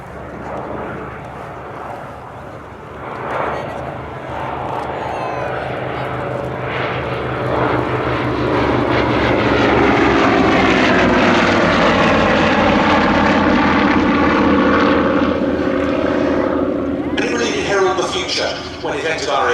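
An Avro Anson twin-engine propeller monoplane drones at an airshow, swelling louder as it approaches and roars past, the pitch sliding down before it begins to fade.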